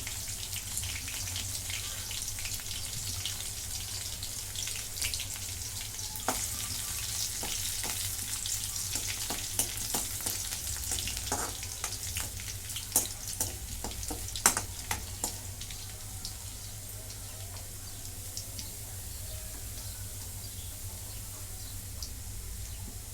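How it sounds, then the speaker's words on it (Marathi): Crushed garlic frying in a pan, a soft continuous sizzle with occasional sharper crackles and a few stirring knocks, fairly quiet throughout. "ठेचलेला लसूण आहे तो लसूण टाकून घेतला"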